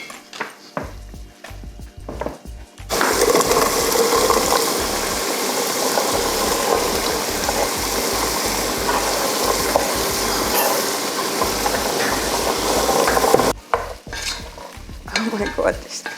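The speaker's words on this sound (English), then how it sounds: "So what we're going to do is place our vegetables in our pan now." Vegetables for chicken soup are dropped into a hot pan and burst into a loud, close sizzle that holds steady for about ten seconds, with scraping and stirring clatter before and after.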